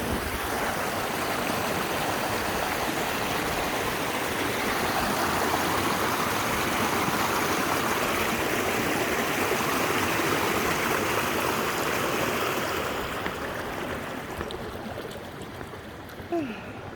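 Creek water rushes over boulders deep in a valley in Deep Creek National Park, a loud, steady broadband roar that fades slightly near the end.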